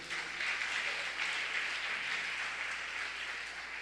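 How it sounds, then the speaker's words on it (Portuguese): Church congregation applauding during a Portuguese-language worship service, a steady wash of clapping that holds fairly even and moderately loud for the whole stretch, with no voices standing out. "Dá um aplauso forte a ele."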